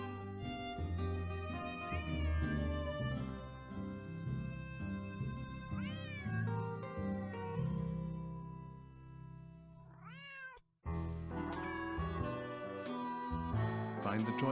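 A cat meows repeatedly in the Nancy Drew game Secret of the Old Clock, its rising cries heard over game music and a speaking voice.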